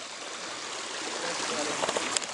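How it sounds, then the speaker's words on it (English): Fairland Creek flows steadily, a continuous broadband rush of water with faint trickling splashes near the end, close and fairly quiet, with no talk over it. "We're here at, what's this creek? Fairland Creek."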